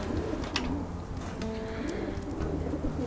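Pigeons coo in soft, repeated rolling phrases close by, several birds overlapping against a steady background hum, with no speech.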